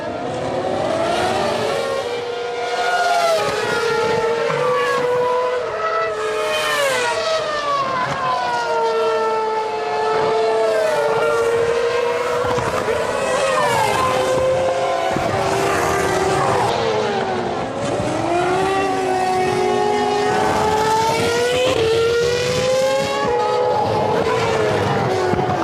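Formula 1 race cars at the 2007 Japanese Grand Prix at Fuji, with loud high-revving engines whining continuously, rising and falling pitch as several cars pass, a dense unbroken roar throughout.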